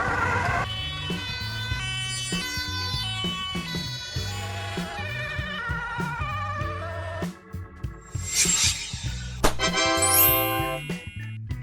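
An ambulance siren of the kind fitted to Dutch Mercedes-Benz Sprinter, Volkswagen Crafter or Ford Transit vans, a loud, steady wailing tone sweeping up and down close by, with a sharper high burst near the end.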